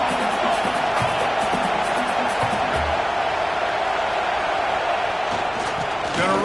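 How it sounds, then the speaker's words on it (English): A stadium crowd cheering in a Madden football video game, a dense continuous roar of many voices held at a loud, even level, with a broadcast commentator talking over it. "Listen to this crowd just shaking the girders of this place"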